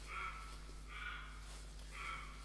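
Roe deer in the video game theHunter 2019, set on Hemmeldal, let out three spaced, faint barks as they flee, each a short hoarse call over a quiet background.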